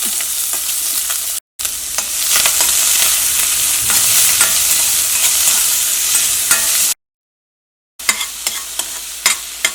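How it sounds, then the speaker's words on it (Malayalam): Chopped onion, ginger, green chili and curry leaves sizzle loudly in hot oil in a pan while making masala vada. A dense hiss runs under repeated stirring clatters, broken by two brief silent gaps. "ഇതിലേക്ക് നമ്മൾ കട്ട് ചെയ്ത് വെച്ചേക്കണ സവോള, ഇഞ്ചി, പച്ചമുളക്, കറിവേപ്പില അതൊക്കെ ചേർക്കാം."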